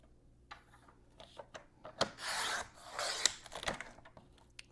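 A gel print is trimmed to square its edges, with soft scraping and cutting strokes in short bursts and two longer rasping passes, faint and close with no voices.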